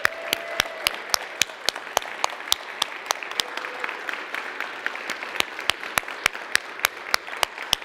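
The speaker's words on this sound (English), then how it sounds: "Please join me in welcoming our newest members with a round of applause." Applause at a Sunday church service welcoming new members: sharp, separate claps from a small group, steady and close, lasting the whole stretch with no talk.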